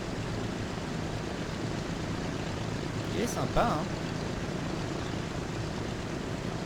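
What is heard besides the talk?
airplane leaving hangar in video game Transport Fever 2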